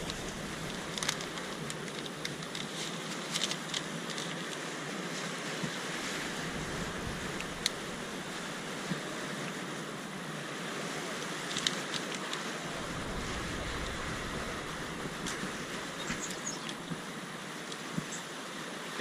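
Strong wind blows outdoors in desert terrain with cactus, a continuous broadband rush with buffeting gusts hitting the microphone, steady and loud throughout with no voices.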